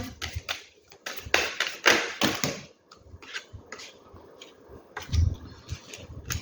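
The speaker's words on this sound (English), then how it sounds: "Let's keep shuffling." Tarot cards being shuffled by hand, a run of soft irregular taps, riffles and thuds with a few low knocks, fairly close and moderately quiet, with no talking.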